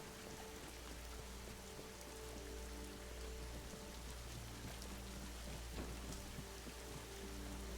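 Steady rain falls on a surface in a dense, continuous hiss, moderately quiet and unbroken, with scattered drops and no voices.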